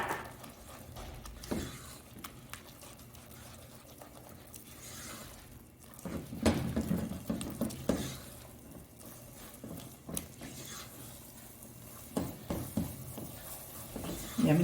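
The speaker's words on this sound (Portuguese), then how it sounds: "Eu vou jogar a minha farinha de trigo e vou mexer até dar o ponto de massa de coxinha." Wheat flour dough for coxinha stirred in a hot pan after the liquid has boiled, giving irregular scraping and knocking with louder bursts midway, no talking.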